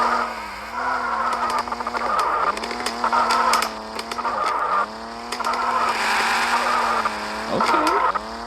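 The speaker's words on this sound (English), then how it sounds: "We got a all blacked out Chevy Camaro here." A blacked-out Chevy Camaro drives in the Drive X Cars video game, its engine note rising and falling through repeated revs and gear shifts, with tire squeals at several points, loud and close, with no talking.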